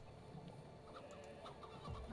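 Soft clucking from chickens in the farming village game Patron, a few scattered, faint clucks over a low ambient game background with no talk.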